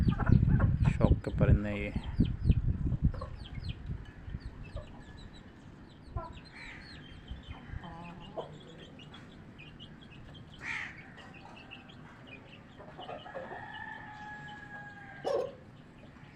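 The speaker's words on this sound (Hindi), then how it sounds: "पक्के मुर्गों के बच्चे हैं" Chickens cluck and a rooster calls close by, with bursts of pecking and scratching, while someone talks loudly at first and then more quietly.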